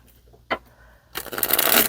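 A single soft tap, then a quick riffling burst of tarot cards being shuffled close by, brisk and crisp.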